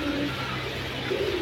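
Pigeons, silver and coloured birds kept for sale, give soft low coos, a couple of brief calls over a steady background hum.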